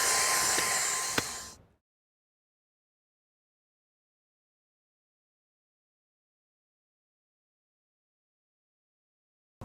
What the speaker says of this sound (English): The vacuum cleaner is designed so that the airflow goes through the head and sucks up the dirt into the machine.